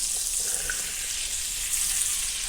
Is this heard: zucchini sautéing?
yes